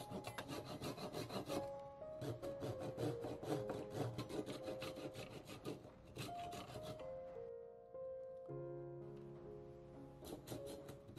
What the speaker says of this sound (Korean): 목심을 구멍에 끼운 후 튀어나온 부분은 톱으로 자르겠습니다